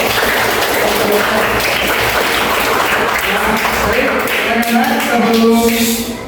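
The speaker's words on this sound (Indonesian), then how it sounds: "Tepuk tangan untuk kalian semua" A classroom of schoolchildren applauds classmates after a short drama, a dense continuous wash of clapping with some voices rising underneath toward the end.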